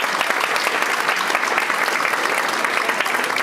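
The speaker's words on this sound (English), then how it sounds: "let's give all these students a round of applause." Dinner guests at a tenth anniversary dinner give the students at the head table a loud round of applause, a dense and sustained patter of many hands clapping close by.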